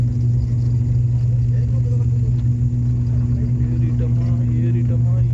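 Twin propeller engines of an Alliance Air plane heard from inside the cabin, a loud steady drone with a strong low hum that never lets up across the whole stretch.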